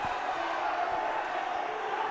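A gym crowd and wrestling team cheering at a wrestling match, a steady wash of massed voices and shouts heard as a continuous roar.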